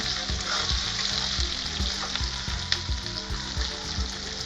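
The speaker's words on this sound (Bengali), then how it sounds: "পেঁয়াজটা একটু নাড়াচাড়া করে নেব। এর মধ্যে একটু লবণ, 1 চামচ চিনি দিয়ে ভালো করে নাড়াচাড়া করে নেব।" Chopped onions fry with salt and a spoonful of sugar in hot oil for a village-style mutton curry, a steady close sizzle with rhythmic scraping stir strokes repeating throughout, no voices.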